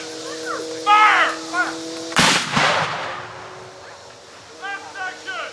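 A Civil War artillery cannon fires during a section-by-section demonstration at Stones River Battlefield, one loud boom with a rolling echo, set among shouted commands and crows cawing nearby in an open outdoor setting.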